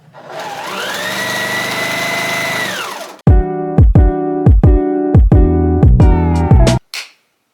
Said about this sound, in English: we will then sew the line the opposite direction, thereby making an X, which is the quilting that is going to hold this together